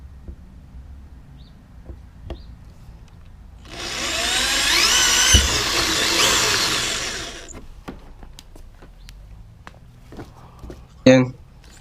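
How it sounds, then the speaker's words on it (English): A power drill bores a hole in a kayak for an outrigger mount, a loud whining burst lasting about four seconds amid quiet handling clicks and a sharp knock near the end. "Time to drill the 3rd hole."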